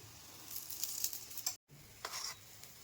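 Aloo paratha frying in a pan, a steady soft sizzle with faint stirring scrapes, briefly cutting out for a moment before the sizzling resumes at a low, close level.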